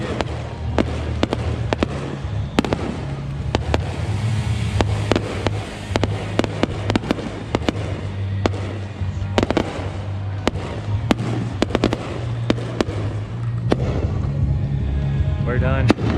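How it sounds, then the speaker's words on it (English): Fireworks at a graduation celebration: a long run of sharp, loud bangs and crackles at an uneven pace over a continuous low rumble. "They shut off fireworks so the wife and I could celebrate this."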